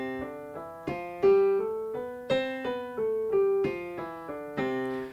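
A piano scale climbs and descends with heavy accents landing on the thumb notes, producing a lumpy, uneven pulse of louder strikes among softer ones; close, solo instrument, no voices.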